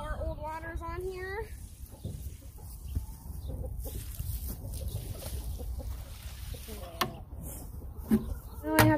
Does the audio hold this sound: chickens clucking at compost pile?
yes